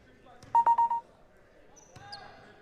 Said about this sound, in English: Cullen, is that your pager going off?